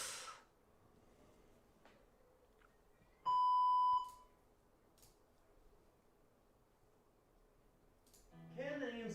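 A phone notification from TikTok gives a single clear electronic beep in a quiet room, with a faint voice starting near the end.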